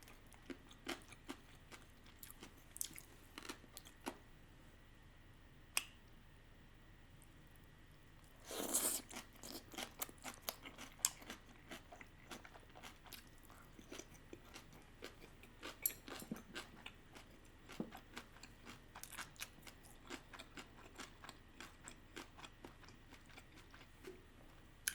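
Whole kimchi is chewed and crunched close to the mic, a long series of faint, crisp crunches and wet bites in irregular rhythm, with one louder burst of crunching partway through, in a quiet setting.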